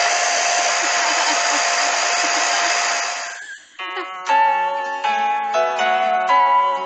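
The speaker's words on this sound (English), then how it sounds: "I am addicted to sleeping with my blow dryer" A hair dryer blows loudly with a steady, high whooshing roar, then cuts out and gives way to a bright, tonal mechanical whine.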